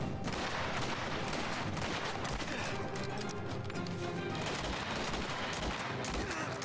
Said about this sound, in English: I'm firing blanks!